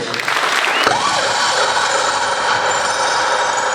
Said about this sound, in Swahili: Tafadhali tujipigie makofi.